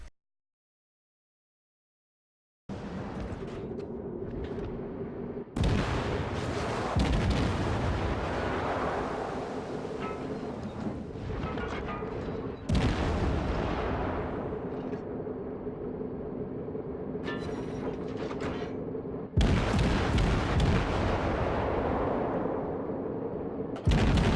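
Cruiser naval guns blasting shells in the World of Warships game, a Japanese Kuma cruiser in battle: after a brief silence, four heavy, close salvos boom at intervals, each followed by long rumbling decay over a steady engine drone.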